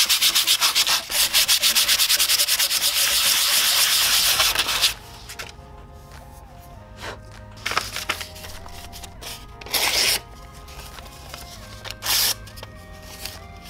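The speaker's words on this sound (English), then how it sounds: "Now I'm gonna sand off all the caca with some pretty light grit sandpaper." Hand sanding of a hardened karambit blade ground from a wrench, using light grit paper of about 160: a steady, loud, rapid back-and-forth scrubbing for about five seconds, followed by quieter intermittent strokes and short bursts of rubbing.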